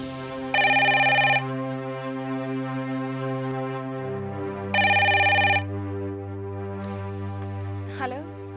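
A telephone rings in a Hindi television drama scene: two bright, sustained electronic ring bursts, clear and close, over a steady background music drone.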